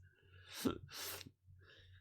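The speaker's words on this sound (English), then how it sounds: "Sneeze." A single quiet sneeze, a sharp burst of breath followed by a brief exhale, close and alone with no talking.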